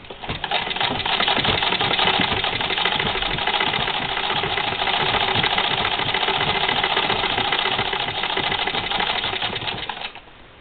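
A sewing machine runs without pause while stitching sweater quilt sections together, a dense, rapid mechanical whir that holds steady for about ten seconds before stopping.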